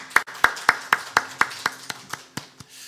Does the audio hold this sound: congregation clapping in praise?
yes